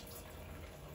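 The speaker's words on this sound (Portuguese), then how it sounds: "Então a minha torneira tem água agora" Water runs from a kitchen tap during dishwashing as a faint, steady rushing hiss that lasts the whole brief moment, with no voices.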